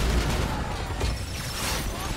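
A turret fires continuously in Spider-Man: Miles Morales on PS5, a loud, dense roar of rapid gunfire and blasts filling the whole short stretch without a break.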